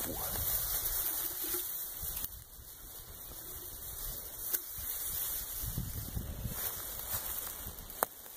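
Water in a small woodland creek flows steadily, a continuous close rushing and babbling with a few sharp clicks and splashes.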